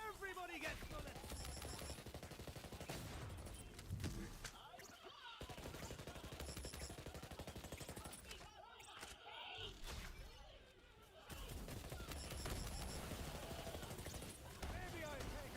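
Borderlands gunfire, dense rapid bursts of automatic shots layered over a busy game soundscape, pausing briefly partway before resuming loud and continuous, with a voice speaking over it.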